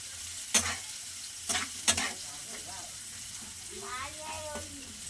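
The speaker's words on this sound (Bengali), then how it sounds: "আমার পেঁয়াজ ভাজা হয়ে গেছে।" Onions fry in a pan while a utensil scrapes and stirs them, giving a few loud scraping strokes over a soft steady sizzle, with a voice heard briefly near the end.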